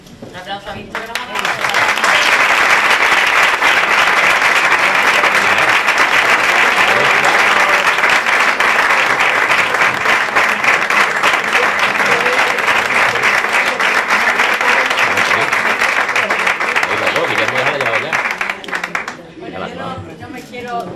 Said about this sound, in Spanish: Un aplauso a Víctor.